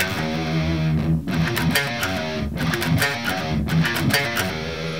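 Distorted electric guitar chugs a choppy palm-muted metal riff on the low sixth string, with rhythmic bursts broken by brief gaps, loud and close with no voices.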